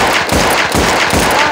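Rapid video game gunfire in Melon Playground, dense repeated bursts of shots filling the clip at steady loudness with no talk.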